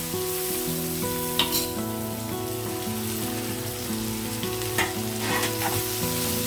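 Broad beans and onions sizzle steadily in a pan, a dense continuous frying hiss with a few sharper pops and spatters standing out.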